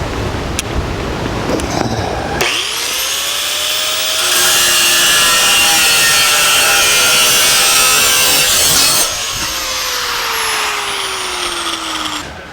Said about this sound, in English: We've cut the center out of the subframe.